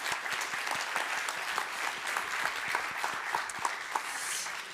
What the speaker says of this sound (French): Je pense qu'on peut, on peut applaudir Sophie Lignon d'Armaillac.